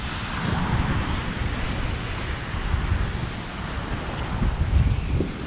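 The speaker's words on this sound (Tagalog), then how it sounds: "sarap sa pakiramdam yung tunog ng dagat ng alon" Sea waves roll onto a beach with turquoise water at Yeongdok, heard as a continuous, fairly loud broadband wash with gentle surges, mixed with steady wind rumble on the microphone and no talking.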